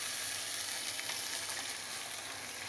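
Chicken in tomato sauce stirred in a pan, giving a soft, steady frying sizzle with faint scraping, quiet and with no voices.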